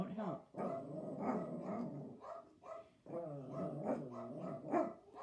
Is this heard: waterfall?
no